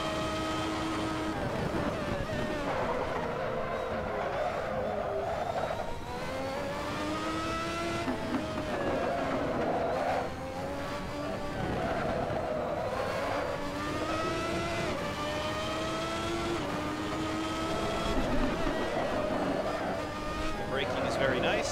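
An ASR Ferrari 643 Formula One race car engine in the video game Assetto Corsa, steady loud high-pitched wail rising and falling through repeated upshifts and throttle changes, with someone talking over it throughout.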